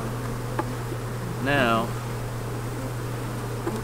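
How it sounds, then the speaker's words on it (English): Honey bees around a small nuc box give off a steady, low, continuous hum, and someone briefly speaks over it. "Look at all the bees I got."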